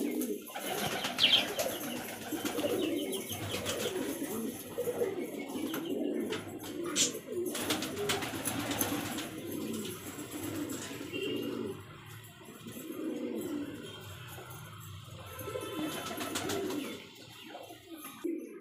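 Domestic pigeons cooing softly at close range, with layered low throaty coos repeating, occasional chirps and faint wing flutters, fairly quiet throughout.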